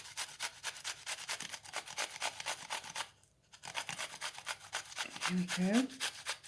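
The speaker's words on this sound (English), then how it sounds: "I like to grate these sort of on the edges." A courgette is rubbed across a grater in quick, rhythmic rasping strokes, close and fairly soft, with a brief pause midway and a short spoken remark near the end.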